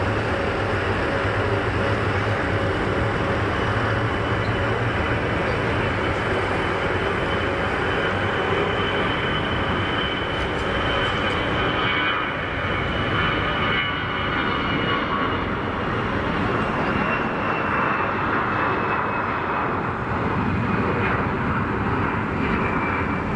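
An EasyJet airliner rolls for takeoff at Geneva Airport, a loud sustained jet engine roar with a broad rushing whine that holds steady throughout, heard from a distance without speech.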